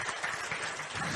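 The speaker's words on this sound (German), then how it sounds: "Da klatsche ich auch mal" An audience applauds, a dense, steady patter of many clapping hands at even volume for just over a second, with no speech above it.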